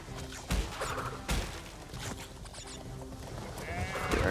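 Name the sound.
goat bleating in the video game Crash Bandicoot 3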